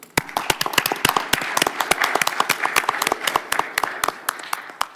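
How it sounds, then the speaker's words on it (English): People at a town council meeting clap for honorees, a moderate crowd of individual sharp claps with an uneven, fairly close rhythm that tapers off toward the end. "Please join me in applauding them."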